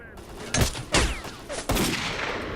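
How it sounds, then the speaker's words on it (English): Enemy gunfire in the video game STALKER: Call of Pripyat, several sharp broadband shots spaced about a second apart over a steady background hum, fairly loud and near, with no talk. "they're being mean and shooting at us"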